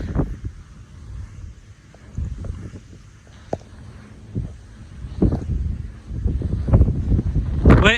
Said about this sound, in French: le vent se met à souffler